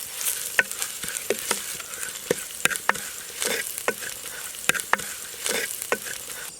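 Onions with crumbled asafoetida fry in hot oil, a steady close sizzle punctuated by repeated sharp scrapes and taps of a spatula against the pan as they are stirred, with no talking.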